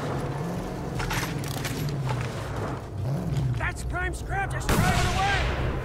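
Gunfire in the video game Mad Max, including a sniper rifle shot: scattered sharp reports build to a loud, close blast near the end, while someone talks excitedly throughout.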